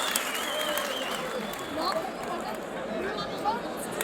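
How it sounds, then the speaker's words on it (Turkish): Dense crowd applause at an oil wrestling festival in Dikmen, Sinop, fills the clip continuously, with a few whistles and cheers rising above the steady clapping. "Pehlivanlara alkış yapalım."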